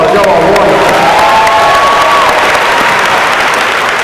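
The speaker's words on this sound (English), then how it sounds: "let's give another round of applause" A university homecoming convocation audience at Albany State University gives a loud, sustained round of applause with some cheering, steady and dense throughout.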